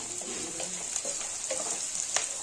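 Onions frying in a pan for a country chicken (natu kodi) curry, a steady close sizzle with a few faint stirring scrapes.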